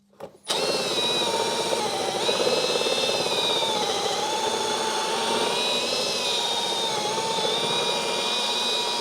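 A power tool cuts a hole into the speaker pod of a 2008 Harley-Davidson Ultra with sidecar, a loud steady whine that starts abruptly and runs continuously close up, with no talking.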